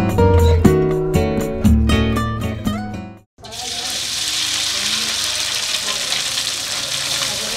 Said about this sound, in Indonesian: adonan isian yang terdiri dari bumbu rempah serta ikan asap yang telah aku haluskan tadi ditumis hingga adonan harum dan matang